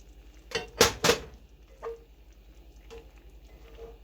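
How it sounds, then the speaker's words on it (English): Spoon clinking against a pan while stirring pork and heavy whipping cream, a few sharp close metallic knocks followed by softer scattered taps over a quiet background. "I'm going to give it a stir."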